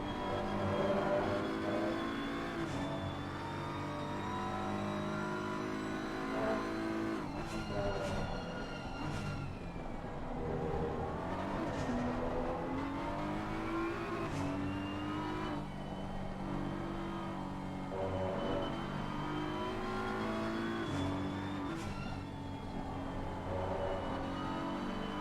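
A Porsche 953 race car engine heard onboard in a racing game during a four-hour endurance race at Laguna Seca: a loud, steady engine drone rising and falling through repeated gear changes and revs, continuous throughout.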